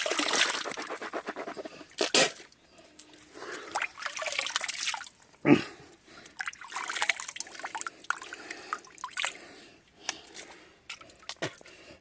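Water trickling and splashing from a water source on a farm as someone drinks from it, close gurgling and dribbling with a few louder splashes and pauses, no speech.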